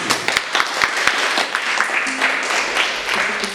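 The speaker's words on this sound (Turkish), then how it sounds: "Bunun için büyük bir alkış." Applause for children visiting a library in Ayvalık, scattered individual claps that thicken into a modest round of clapping before thinning out again, close and fairly loud.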